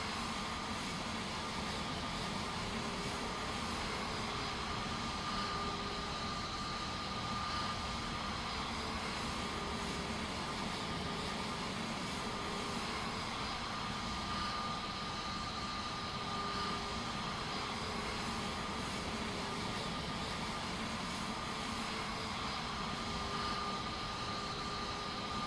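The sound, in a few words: Airbus A321neo jet engines running, from video game MSFS 2024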